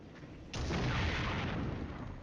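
Tank cannon fire from T-72 tanks in the Wargame combat game, a single heavy boom with a sharp onset that leaves a long rumbling tail.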